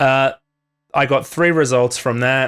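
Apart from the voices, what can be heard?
None of the usual background noises is heard.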